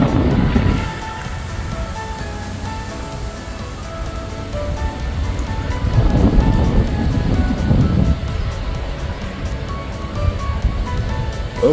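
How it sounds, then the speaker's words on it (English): Strong wind buffets the microphone on an outdoor e-bike ride on a hot day, a loud continuous low roar that swells and fades in gusts, with no voices. "A pretty good wind, as you can probably tell in the video."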